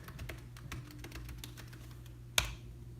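Keys tapped on a computer keyboard to enter a terminal command, a quick run of light close clicks over a low hum, ending with one sharper louder keystroke like the return key.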